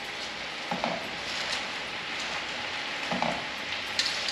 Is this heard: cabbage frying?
yes